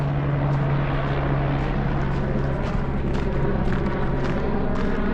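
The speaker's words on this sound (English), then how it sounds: "More helicopter." Steady loud rotor and engine roar of a helicopter flying overhead in a mountain area after a fire, continuous and close, with no voices.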